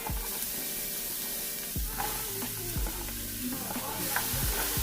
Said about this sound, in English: We're going to saute those vegetables in the pan drippings for about 5 to 7 minutes until they're translucent.